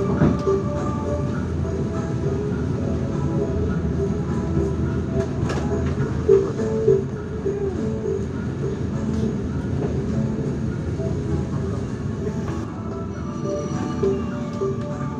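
A Mataram passenger train runs at night in Indonesia, heard from inside the carriage as a constant, heavy rumble with steady wheel clatter and occasional faint clicks and knocks throughout.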